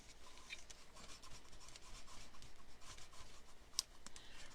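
Glitter strips being rubbed down firmly by hand, a quiet, continuous scratchy rubbing with one brief sharp tick near the end.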